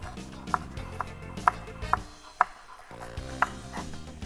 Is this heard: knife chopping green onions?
yes